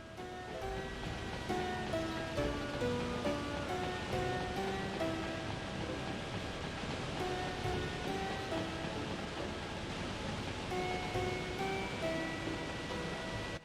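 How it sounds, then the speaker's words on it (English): A waterfall in the video game Shenmue II gives a steady, soft rushing wash of water, with faint melodic game music tones playing over it throughout. "So it's kind of worth coming up here just for the cool waterfall."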